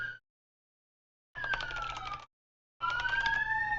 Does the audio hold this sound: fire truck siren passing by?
yes